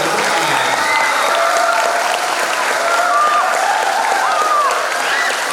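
A lecture audience bursts into sustained applause, dense and loud, holding steady for several seconds, with faint voices and whoops riding over the clapping.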